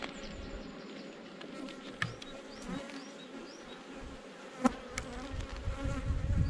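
Honeybees buzzing during a beehive inspection, a dense, steady close drone of many insects with individual bees whirring past, plus occasional soft clicks and knocks of hive handling.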